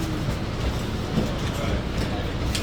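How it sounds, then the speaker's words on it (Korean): A Boston T subway train bound for Cleveland Circle rumbles in a station, a steady low roar with faint rail clatter, while a person speaks faintly over it. "The destination of this train is Cleveland Circle."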